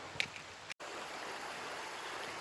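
Tank Creek flows with a steady, broadband rushing hiss. A brief dropout breaks it early on, and it runs on alone without voices.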